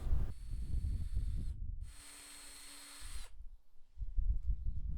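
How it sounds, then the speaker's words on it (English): A power drill boring pilot holes into a wood board for screws: a steady high-pitched whine runs for about a second and a half, pauses briefly, then a second shorter burst follows, with low knocking and handling noise around it. "it was time to drill the pilot holes to get the screws in"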